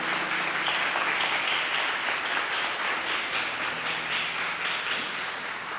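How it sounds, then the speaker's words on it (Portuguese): Sustained church congregation applause fills the space, steady and dense from start to finish with no break. "Você pode aplaudir ao Senhor por essa palavra?"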